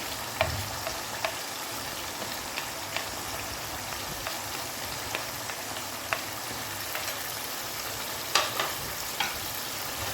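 Qorma with turmeric, salt and red chili being stirred in a pan, a steady sizzling hiss with occasional soft scrapes and taps of the spoon, close and continuous, with no talking.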